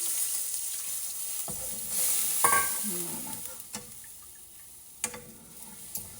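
Sour buttermilk made from Greek yogurt stirred into hot spiced tempering oil for khatti rotli: a soft, steady sizzle with a few light spoon clinks and scrapes, fairly quiet and close, no talking.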